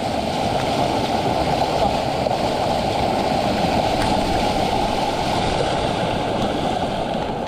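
Strong floodwater rushes through a rice field after a typhoon, a loud, continuous broadband roar of flowing water with no breaks, close and steady throughout.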